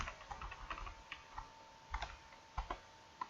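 Quiet, irregular clicking of computer keyboard keys being typed in short bursts while entering a sum formula in an Excel spreadsheet, with no talking.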